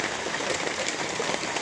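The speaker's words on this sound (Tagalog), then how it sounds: "ang lakas na naman ng ulan" Heavy rain pours steadily in a dense, continuous hiss with no breaks, drumming on surfaces close by during a morning downpour.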